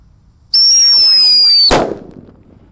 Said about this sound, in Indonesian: mercon-mercon yang kita nyalakan ini yang paling kenceng yang mana